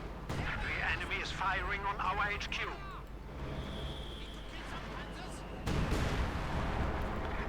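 Shell explosions in the Company of Heroes 2 video game, a muffled crash and rumble with crackling debris. A commentator talks over the battle noise.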